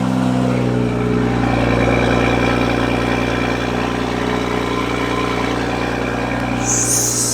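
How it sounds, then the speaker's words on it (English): A Toyota Supra engine with an AMS catted downpipe and stock exhaust hums steadily at a low, even rumble throughout, loud and close, with no clear pass-by or rev climb. "actually hear the car doing flybys and stuff"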